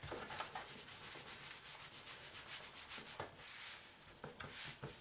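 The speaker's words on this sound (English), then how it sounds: "you're just going to coat your brisket with this seasoning, okay? Make sure you get all sides here, really rub it in good." Hands rub dry seasoning into a brisket, a continuous soft scrubbing and rasping with uneven strokes, close and quiet with no voices.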